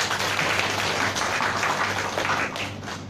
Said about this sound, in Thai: ปรบมือให้จ่าแป้งเลย